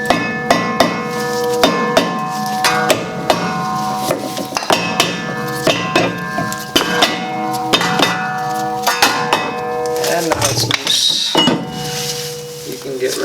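A mallet strikes a rusty ten-year-old rear brake rotor on a Honda Civic, with repeated loud metallic clanks that ring briefly. The hits come at an irregular pace and are close, and someone talks between them.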